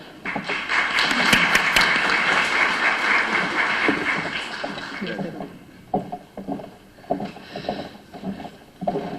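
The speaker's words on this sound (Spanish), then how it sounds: "les pido un fuerte aplauso" Conference audience applause greeting a speaker for a lecture on interpretive rulings of a constitutional court, a broad wash of clapping that fades into scattered claps and murmurs near the end.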